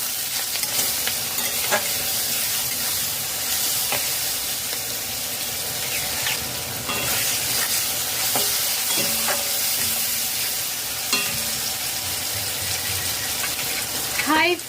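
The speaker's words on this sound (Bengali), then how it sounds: "আমি তিন মিনিট পেঁয়াজ কুচি ভেজে নিয়েছি পেঁয়াজের কালার চেঞ্জ হয়ে গেছে পেঁয়াজ থেকে তেল ছেড়ে দিয়েছে" Chopped onions fry in oil in a pan while a spoon stirs them, giving a continuous close sizzle broken by regular scraping and tapping strokes, with no talking over it.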